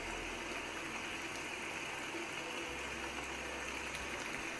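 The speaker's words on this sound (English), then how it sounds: "I can have rain." Rain ambience plays from a macOS widget app as a soft, steady, even hiss with no pauses and no voices.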